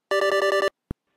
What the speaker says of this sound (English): And now my phone rings.